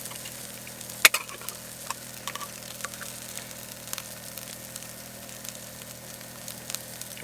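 Jalapenos sizzle in a pan on a camp stove, a steady soft frying hiss with a sharp clink near the start and scattered small pops and stirring scrapes.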